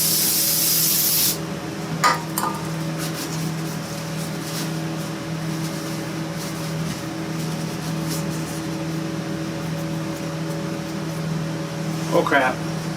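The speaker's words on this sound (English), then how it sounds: "Give it a little spray of stuff here too" A short burst of aerosol spray hisses loudly at the start in a workshop with a drill press, then a steady mechanical hum continues with a few faint clicks and rustles.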